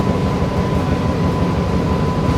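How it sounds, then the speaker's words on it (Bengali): Steady loud rumble and rattle from inside an AC local train near Kolkata running at speed, continuous and close throughout, with no talk. "আর ট্রেন এখন ভালো স্পিডে চলছে,"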